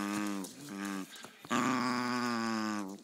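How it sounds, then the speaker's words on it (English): A dog growls in drawn-out, throaty rumbles during play, with a short break and then a longer, louder growl. "Not allowed to growl at Lorna."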